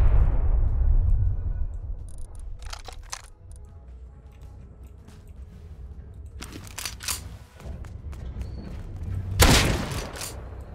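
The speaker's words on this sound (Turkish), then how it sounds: "Patlama." Explosions in the video game Rust: a deep booming rumble opens, followed by scattered crackling bursts and a loud sharp blast near the end, close and forceful, with no speech.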